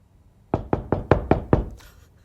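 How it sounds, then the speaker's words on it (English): An upstairs neighbour knocks on the ceiling, six firm, evenly spaced thuds in a quick series, resonant and fairly loud. "As soon as she hears the slightest noise, she knocks."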